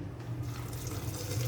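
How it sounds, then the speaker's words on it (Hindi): Water pours steadily into a jug holding falsa fruit for sharbat, a continuous close splashing rush with no pauses and no voices. "तकरीबन 1 गिलास के बराबर मैंने पानी डाल दिया।"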